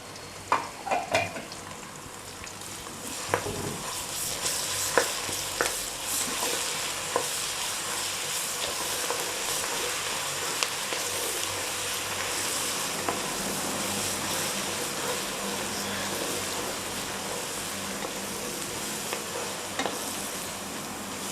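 Ginger garlic paste sizzles in hot oil for a tempering while cooking country chicken curry, a steady close frying hiss with occasional stirring clinks and scrapes of a spoon against the pan.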